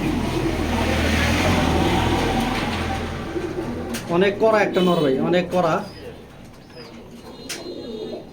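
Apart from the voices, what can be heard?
pigeons cooing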